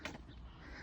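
A crow caws once overhead, a short harsh call that is fairly close and clear against quiet outdoor background.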